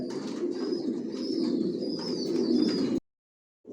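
Adult Johnson line racer pigeons in pairs coo steadily in a low, continuous murmur with faint higher chirps above, close and fairly loud, before cutting to near silence for the last moment.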